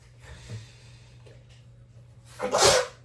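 A single sharp sneeze bursts out near the end, loud and close, after a few seconds of quiet breathing and faint room noise.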